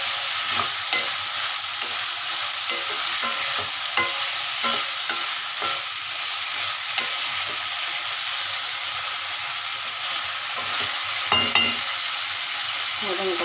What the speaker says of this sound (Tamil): இந்த பாவக்காவை வதக்கணும்.